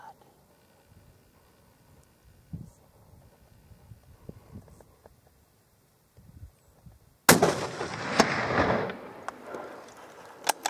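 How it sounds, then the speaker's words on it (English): A hunting rifle shot cracks out suddenly and loudly after a stretch of quiet, hushed voices and faint outdoor sounds, with the blast's roar trailing on for several seconds. "I'll make the shot then."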